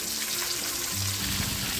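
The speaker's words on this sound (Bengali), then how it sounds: "কড়াইতে সর্ষের তেল ভালোভাবে গরম হয়ে এলে মাছগুলো ভেজে নিতে হবে।" Silver carp fish fry in hot mustard oil in a wok, giving a steady, close sizzle and crackle throughout with no voices.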